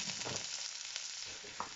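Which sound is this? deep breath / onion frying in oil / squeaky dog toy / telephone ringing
onion frying in oil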